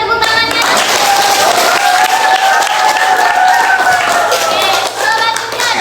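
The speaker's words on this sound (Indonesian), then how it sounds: "Berikan tepuk tangannya." An audience in a classroom-style gathering applauds loudly and continuously for several seconds, a dense wash of many hands clapping with tonal voices or cheering mixed in over it.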